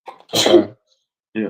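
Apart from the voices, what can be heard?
person sneezing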